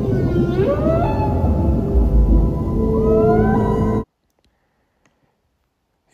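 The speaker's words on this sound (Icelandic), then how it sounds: "Þetta var búrhvalsfjölskylda. Þau eru svo stór og hávær," A sperm whale family vocalizing, loud rising and falling whistles and tonal calls over a deep rumble with some clicking, lasting about four seconds before cutting abruptly to silence.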